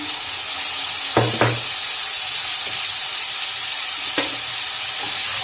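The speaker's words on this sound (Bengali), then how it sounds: "এখন আমি মশলাগুলো দিয়ে দিচ্ছি আর 2টো টমেটো দিয়ে দিচ্ছি।" Fried potatoes sizzle steadily in hot oil as spices and two tomatoes are added, a continuous close hiss broken by a few sharp crackling bursts and stirring scrapes.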